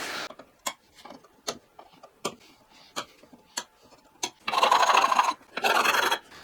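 A file works the fret ends on a Telecaster neck: a run of sharp, evenly spaced scraping ticks, followed by two longer, louder rasping strokes close by, with no speech.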